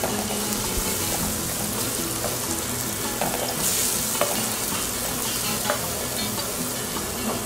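Chopped onion and bell pepper sizzling in a hot pan, a loud steady frying hiss with occasional stirring scrapes and no talk.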